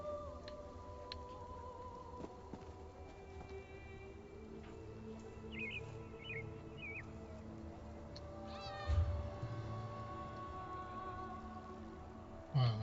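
A cat meows in the Elder Scrolls Online video game at Obsidian Gorge. The calls are short and faint, set in a steady ambient game soundscape with bird chirps and a low drone.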